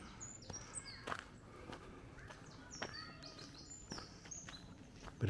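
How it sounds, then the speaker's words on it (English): Wren singing among redwood trees in a park, a series of brief high trilling and chirping bursts over a steady outdoor background, with a few thumps like footsteps nearby. "Bit of bird song, that was a wren."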